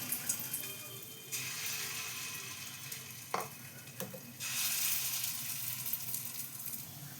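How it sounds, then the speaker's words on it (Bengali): Lentil fritters (dal bora) fry in a pan of oil with a steady close hiss that swells louder toward the end, broken by a couple of short clatters. "দেখো বড়াগুলো ভাজা হয়ে গেছে"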